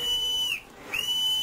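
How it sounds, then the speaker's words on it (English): A single whistle blown from a small boat in fog on sandbanks gives two sustained shrill tones with a brief dip between them, loud and clear with no talk. "so in desperation I blew my whistle."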